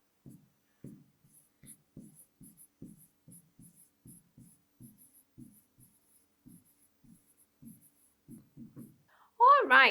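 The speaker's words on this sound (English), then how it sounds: "So let's write down." A pen scratches out short strokes during a classroom lesson. The scratches come in a near, irregular rhythm of brief marks, and a voice cuts in loudly at the end.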